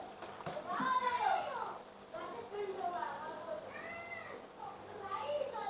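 An injured cat, hurt after being struck by a vehicle in a hit-and-run, lets out repeated drawn-out, wailing meows close by, several distressed cries in a row.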